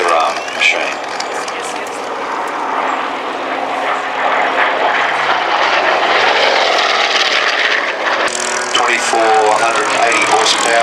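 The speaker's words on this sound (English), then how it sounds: "Silver aircraft painted as a Royal Navy Fleet Air Arm machine." Silver Hawker Sea Fury in Royal Navy Fleet Air Arm markings, with a 2480-horsepower Centaurus piston engine, flies past at an air display. A loud, steady broadband engine roar holds throughout, with a brief surge near the end.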